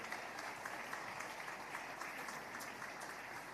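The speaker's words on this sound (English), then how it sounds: "A round of applause, please. Let's keep clapping." A room of people at a Nigerian speaking event breaking into steady applause, the clapping faint and distant, a continuous even patter that neither builds nor fades.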